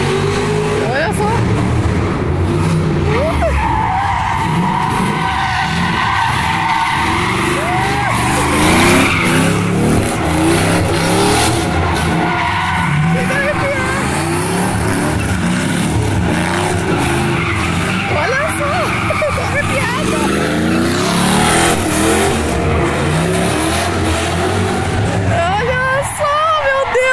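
A Chevrolet Camaro skids and revs in a long, loud run of tire squeal and engine roar, with people talking excitedly over it throughout.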